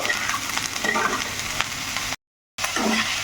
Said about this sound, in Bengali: তো এটাকে একটু নাড়িয়ে চাড়িয়ে নিলাম